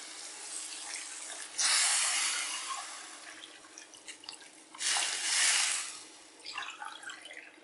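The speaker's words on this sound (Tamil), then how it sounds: "6 டம்ளர் அளவுக்கு தண்ணி ஊற்றிக்கலாம்." About six tumblers of water pour into a pot for millet pongal in two separate bursts, splashing loudly for a second or so each time, with quieter trickling and drips in between.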